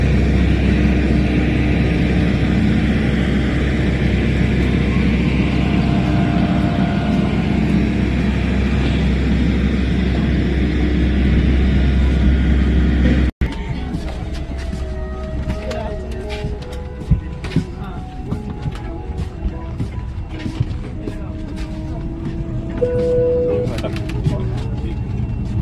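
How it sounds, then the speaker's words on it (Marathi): Inside a small 70–72 seat passenger airplane flying from Jalgaon to Pune, a loud steady cabin drone fills the first half, then cuts abruptly to a quieter hum with scattered clicks and faint background voices. "जळगावच्या छोटंसं विमान आहे, 70-72 सीट्स आहे त्याच्यामध्ये."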